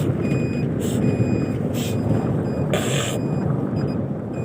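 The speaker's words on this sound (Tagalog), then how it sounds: "Ayan, nag-a-alarm na, oh." A tanker or cargo truck's speed-limiter alarm beeping on a highway, repeated short high-pitched beeps in a steady rhythm over loud road and engine rumble from inside a moving vehicle.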